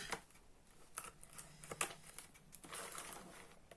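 Small wooden stamps being unpacked from their packaging, with quiet crinkling of plastic wrap, light taps and scattered rustles coming in short bursts, close but faint and with no talking.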